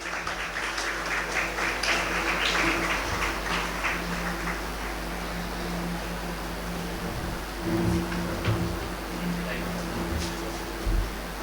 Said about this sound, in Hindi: तालियों से इसका इस्तकबाल किया जाए।